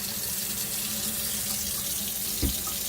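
Water running from a tap into cold brew coffee grounds, a steady close pour filling the whole clip with no talking.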